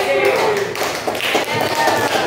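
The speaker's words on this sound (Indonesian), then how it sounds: "Beri tepuk tangan untuk kelompok" Classroom applause for a presenting student group, a dense patter of many hands clapping at close range, steady for a couple of seconds with voices mixed in.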